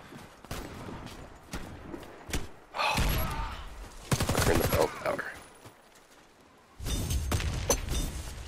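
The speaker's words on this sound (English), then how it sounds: "I shot Soup before he fucking got the drop on me with that firecracker." Rapid bursts of gunfire in the Warface first-person shooter game on the Icebound map, free-for-all mode, with sharp single shots and dense automatic volleys, fairly loud, with occasional talk.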